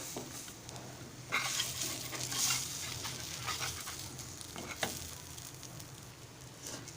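Chunkappa ghavan, a Malvani rice crepe, sizzles softly in a pan as it is flipped, giving a faint steady frying crackle with a couple of brief scraping clatters from the turn.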